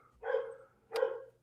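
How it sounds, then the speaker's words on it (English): A dog barks twice nearby, each bark short and moderately loud, separated by a brief pause. "My dog down there."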